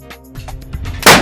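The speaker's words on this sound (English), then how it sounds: "had never shot a muzzleloader and was not expecting the recoil and all that smoke" A muzzleloader rifle fires during a deer hunt, one loud sharp blast at the very end after a stretch of quieter rustling and ambient outdoor noise.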